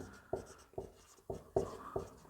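A pen writes a math solution on paper in short, faint scratching strokes, about five separate taps and scribbles close by in a quiet room.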